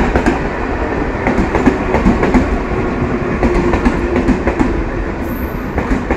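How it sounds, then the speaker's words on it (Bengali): A train rumbles loudly nearby with rhythmic clickety-clack from the wheels on the rails, a continuous roar that holds steady for several seconds. "ওই দেখো ট্রেন আসছে ওই দিকে।"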